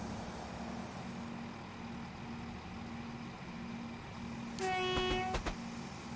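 A diesel locomotive horn in Train Simulator 2021 on the Fife Circle Line, heard as a loud, sustained toot near the end over a steady engine drone.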